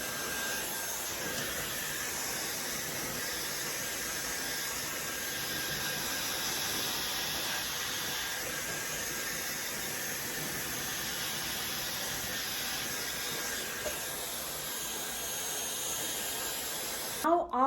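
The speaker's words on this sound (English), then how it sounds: "taking the hair dryer as well and just drying all the leave-in conditioner" A hair dryer blows over long hair coated in leave-in conditioner, giving a steady, loud whooshing hiss that runs unbroken through the whole stretch and ends with a brief clatter.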